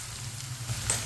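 Okra (bhindi) frying in a pan, giving a steady soft sizzle with faint crackle for about a second, close and alone.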